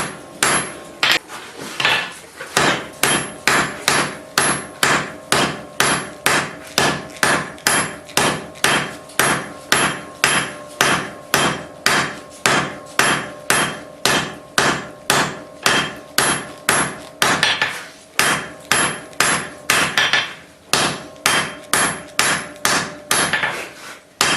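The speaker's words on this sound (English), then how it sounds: "I'm going to start by hammering straight down, then on the 45s, and then on the sides." Hot steel hammered on an anvil while forging bolt jaw tongs: loud, evenly spaced ringing hammer blows repeat steadily, about two per second, with a couple of short pauses.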